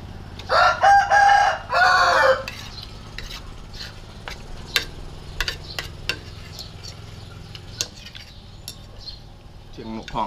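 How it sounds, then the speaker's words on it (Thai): Near and loud, a rooster crows twice in quick succession at a rural Thai roadside noodle shop, followed by quieter scattered clucks, clicks and insect chirps in the background. "เชียงไก่ขัน"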